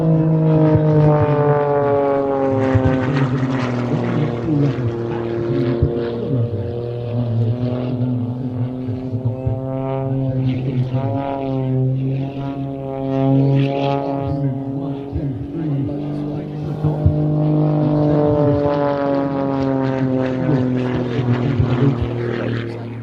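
A propeller-driven aerobatic aircraft engine drones loudly and continuously, its strong harmonic tone rising and falling in pitch as power changes.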